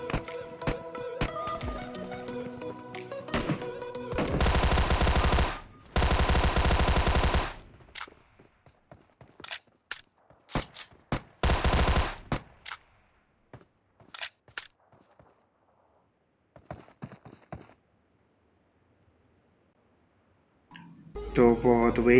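A shotgun and a Tommy gun fire in the mobile game PUBG Mobile, loud sustained bursts and single sharp shots, separated by quiet gaps and scattered clicks.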